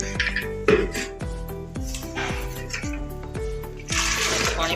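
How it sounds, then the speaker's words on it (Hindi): Metal pressure cooker clanks and rings several times, then water splashes and pours briefly into the cooker near the end, while cooking goat trotters and head meat. "थोड़ा सा इसके अंदर पानी डालूंगी। ये मैंने प्रेशर कुकर रखा है, इसके अंदर ये डाल रही हूँ।"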